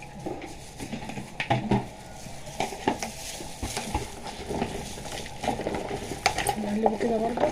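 A spoon stirs olives in a bowl of vinegar, scraping and clinking close by in an irregular, continuous rhythm with small wet sloshes.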